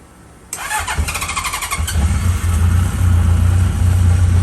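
A vintage Italian motorcycle engine, found in storage, cranks and catches after a sputtering start, then settles into a steady, close rumble.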